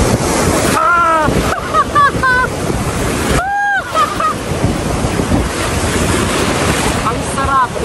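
Ocean waves break and wash on Station 1 beach in Boracay, a loud continuous roar of surf with heavy wind buffeting the microphone and excited voices calling out over it.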